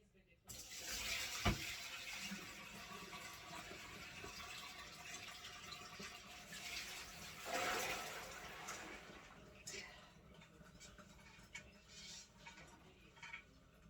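Soaked pink-eye beans and their soaking water gush from a pot into a colander in a kitchen sink, followed by steady running-water rinsing, close and continuous with a couple of louder splashes.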